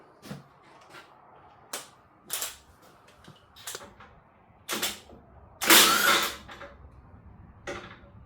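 A socket wrench works a stiff nut loose on a Leyland 154 tractor, giving sharp metallic clicks and ratcheting bursts at irregular intervals, with one longer grinding rasp near the end, close by.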